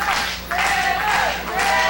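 Wrestling crowd at a CWF Mid-Atlantic show cheering and clapping to rally behind the champion, a loud, brief surge of mixed voices and applause that swells near the end.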